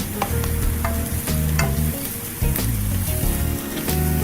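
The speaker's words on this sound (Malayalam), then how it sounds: "ഈ സവോള നമുക്ക് നന്നായിട്ട് വഴറ്റിയെടുക്കണം." Onions sautéing in a pan for prawn pathiri give a steady, close sizzle with repeated stirring scrapes, over a tonal background hum throughout.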